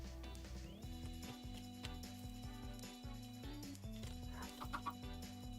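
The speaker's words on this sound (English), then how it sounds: "we got cold chickens from the blue eggs" Cold chickens in the Minecraft video game cluck in short, soft bursts over a steady game music track, faint and scattered toward the end.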